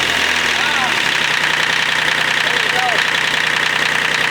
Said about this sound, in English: These little Kubota 3-cylinders are pretty famous for being hard to start even when it's warm.